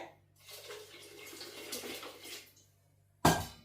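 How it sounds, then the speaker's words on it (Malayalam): Water is poured into a pot of sambar being cooked for Onam, a steady splashing pour of about two seconds, followed by quiet and then a sharp metallic clank. "ഇനി ആവശ്യത്തിന് വെള്ളം, നന്നായിട്ട് വെള്ളം വേണേ."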